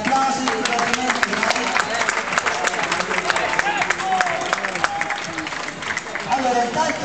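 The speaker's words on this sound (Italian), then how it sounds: "Un applauso di ringraziamento." A crowd gathered for a Franciscan march event in Città di Castello, Tuscany, applauds in thanks with steady, dense clapping and murmuring voices throughout.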